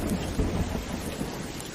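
Rain falls steadily while thunder rumbles low and close, swelling in a few rolling bursts over the constant wash of the downpour.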